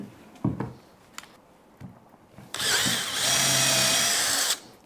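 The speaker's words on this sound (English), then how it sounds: "I'm just going to drill through the top" A power drill whirs steadily as it bores through the top of a wooden handle, loud and close, preceded by a few knocks and handling sounds.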